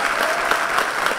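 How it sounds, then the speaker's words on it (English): Audience applause at a conference panel on music, criminal justice and racial equality, a dense steady burst of many hands clapping with no pauses, alone and fairly loud. "Give her a round of applause."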